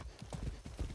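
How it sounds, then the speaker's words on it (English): A horse's hooves clip-clop in the video game Far Cry 6, a quick, fairly faint series of thudding hoofbeats close by during riding. "Oh, I like the horse riding in this game."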